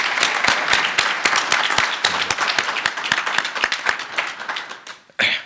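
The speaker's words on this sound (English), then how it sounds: "please join me in a big applause for Tracy Gonzalez-Padron and Liz Moore" A crowd applauds steadily, dense clapping filling the space for several seconds before tapering off, with a brief louder burst at the end.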